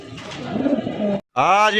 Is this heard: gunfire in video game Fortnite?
no